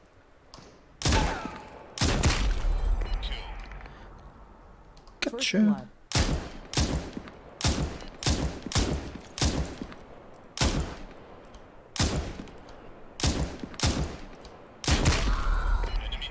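Bursts of gunfire ring out in the online shooter Super People, with repeated sharp shots in clustered volleys and single reports spread across the span, loud and close, while a player briefly speaks between them.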